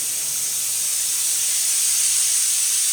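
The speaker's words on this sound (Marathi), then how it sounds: "बघू शकता शिट्टीचा आवाज" A pressure cooker cooking rice vents steam in a sustained, loud, bright hiss that stays level from start to end with nothing else heard.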